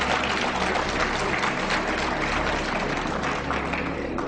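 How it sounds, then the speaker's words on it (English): Dense, continuous applause from a crowd, steady and fairly loud, with no pauses. "Yes, you can clap for that."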